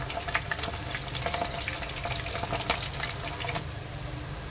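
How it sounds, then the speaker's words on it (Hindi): Aloo kofta balls fry in hot oil until golden, a soft, steady bubbling sizzle with faint crackles, close and unbroken, no voices. "एक तरफ से इसे गोल्डन होने देते हैं, उसके बाद हल्के हाथों से चलाते हुए आप गोल्डन फ्राई कर लीजिए।"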